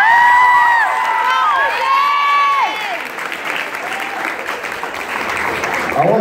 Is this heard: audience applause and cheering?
yes